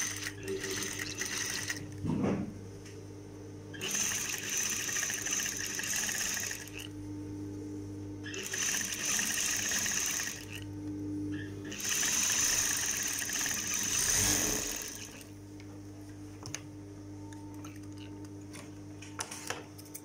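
A sewing machine stitching a cap, running in three bursts of a few seconds each with pauses between, close and moderately loud, followed by quieter handling noises.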